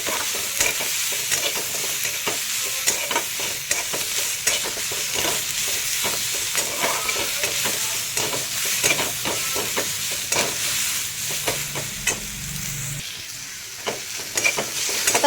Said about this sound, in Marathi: चांगला लालसर होईपर्यंत भाजून घ्यायचं.